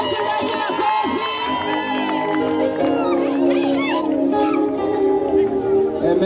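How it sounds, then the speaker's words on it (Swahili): A big crowd at an outdoor gospel crusade in Korogocho cheers, claps and whoops for the pastor, loud and sustained, with voices shouting and singing over the din. "Hebu pigia mchungaji makofi."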